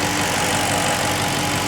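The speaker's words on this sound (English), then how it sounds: "So the engine, as you can hear, everything sounds good." A 2007 Maserati Quattroporte with automatic transmission idles close by, a steady, loud, even engine drone with a low rhythmic pulse and no talk over it.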